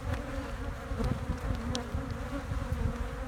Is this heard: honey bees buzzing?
yes